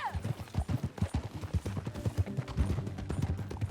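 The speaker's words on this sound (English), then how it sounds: "10 minutos só de corrida de cavalo agora" Horse hooves gallop in the video game Red Dead Redemption 2, a quick, steady clip-clop of several riders heard fairly close, with faint game sound behind it.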